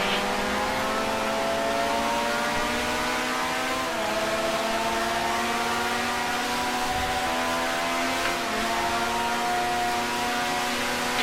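A 1965 racing car in Grand Prix Legends, its engine droning loud and close the whole time, pitch rising and dipping as it revs through gears, one clear shift dip partway.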